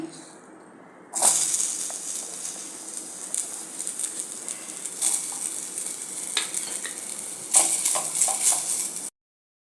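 Sliced onion sizzles in hot oil in a pan while Kolhapuri mutton curry is being prepared. A bright, continuous hiss starts suddenly, and stirring scrapes and clinks of a spoon recur throughout.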